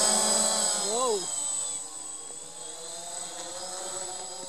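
A DJI Phantom quadcopter's whining rotor hum rises and falls in pitch as it maneuvers, a steady buzzing drone sound that stays fairly close throughout.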